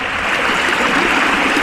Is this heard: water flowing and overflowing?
yes